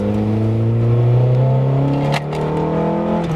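Nissan Sentra 200SX SR20DE with about 112,000 km, pulling in second gear under steady throttle, its engine note holding a strong, rising drone throughout, close up and continuous.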